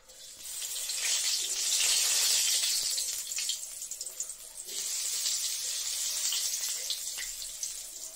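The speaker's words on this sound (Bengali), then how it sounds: "কালো জিরা ফোড়ন দিয়ে দিলাম" Nigella seeds sizzling as they are tempered in hot oil, giving a steady, close, hissing crackle that dips briefly near the middle and then returns, with no talking.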